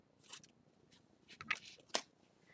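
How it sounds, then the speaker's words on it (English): Scissors snip through a single sheet of paper in a few quick, close, quiet cuts, each a short crisp burst against near silence. "We're going to take our scissors and cut right down that line and stop once we get to the very edge."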